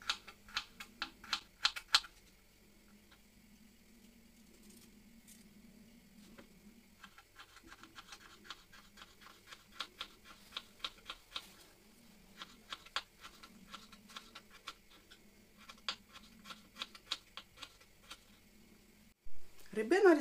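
Knife slicing carrot into half-rings on a cutting board, quick rhythmic bursts of crisp taps in several runs with brief pauses, close and fairly faint.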